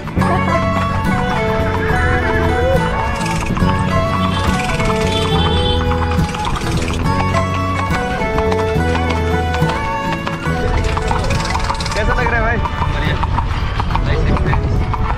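Hooves clip-clop steadily from a horse-drawn carriage in Jodhpur under loud music, with the horse's rhythmic trotting and occasional talk mixed in.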